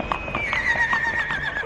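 An Akhal-Teke horse lets out a loud, close neigh that slowly falls in pitch, with faint hoof knocks beneath it.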